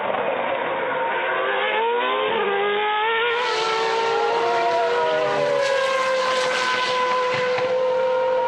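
FA1 open-wheel race car running flat out over a crest at Portimao circuit, a loud sustained high engine whine with shifting pitch under what sounds like broadcast mix, no talking.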